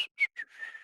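A person whistles a few short, bright notes and then one longer sliding note, close and alone, with brief gaps between the opening notes.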